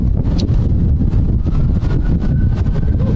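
Hot, gusty wind at a roadside amateur cycling race, buffeting the microphone in a loud, continuous low rumble that fills the whole moment with no voices.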